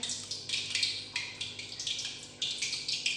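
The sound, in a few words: chicken pieces dipped in water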